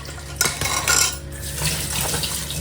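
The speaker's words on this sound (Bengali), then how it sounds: "আমি এগুলো সবজি ধুয়ে রাখছি" Vegetables being washed in water in a home kitchen: splashing water and clattering bowls and utensils, with sharp clinks early on, then a softer continuous rinse and slosh, fairly close.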